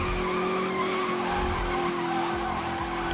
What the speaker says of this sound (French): il n'y a même pas besoin de freiner pour tourner, ça drifte tout seul juste en braquant les roues